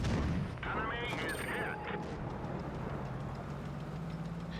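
Tank cannon shots in World of Tanks Blitz, skirmish mode with a Soviet T-2020 heavy tank firing on a Panther, a loud blast with ringing tail early on, then steady engine rumble and battle ambience.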